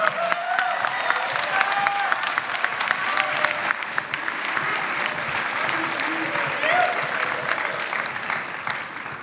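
Sustained audience applause at a student awards ceremony, dense clapping filling the hall with a few scattered cheers, steady and fairly loud from start to finish.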